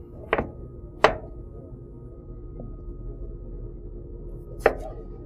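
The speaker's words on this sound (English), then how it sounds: "Just cut them in half. Chop them down." Knife chopping potatoes in half on a cutting board: three sharp, separate thunks spaced unevenly over a few seconds, close and clear above a low steady room hum, with no talking.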